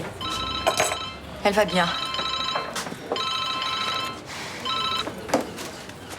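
A telephone rings repeatedly in steady bursts, loud and close, while people talk over it in a domestic setting.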